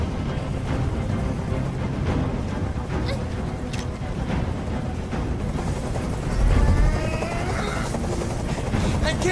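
A helicopter hovers overhead in the Detroit Become Human video game, its steady rotor thrum continuing throughout and swelling louder near the end, heard beneath people talking.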